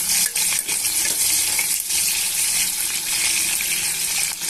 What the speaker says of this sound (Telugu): కాగిన తర్వాత ఉల్లిపాయ ముక్కలు పచ్చిమిరపకాయ ముక్కలు వేస్తున్నాను ఇప్పుడు కొంచెం అటు ఇటు కలుపుకోవాలి